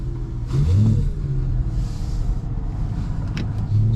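Modified 2010 BMW E92 M3 with a naturally aspirated engine pulling under throttle through a corner, a steady low drone heard from inside the cabin with a brief rise in pitch and faint wind noise.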